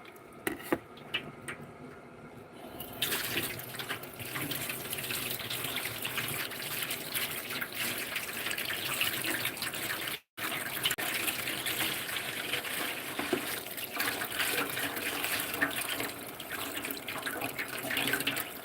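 Running tap water rinses sunflower seeds and a stripped sunflower head, pouring as a steady, fairly loud gush from just after the start to the end with only a momentary break partway through.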